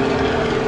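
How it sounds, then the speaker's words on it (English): A helicopter flies over a parking garage, giving a steady, loud rotor and engine drone with a low tonal hum. It holds evenly across the short span, with no voices. "That's a helicopter going to the free helicopter parking."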